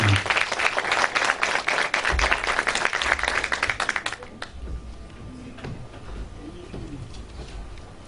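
A crowd claps to welcome a speaker, a loud, dense round of applause that stops abruptly after about four seconds, followed by quiet room sound with a faint tonal hum.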